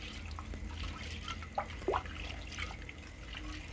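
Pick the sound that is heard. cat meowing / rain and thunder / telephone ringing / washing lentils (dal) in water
washing lentils (dal) in water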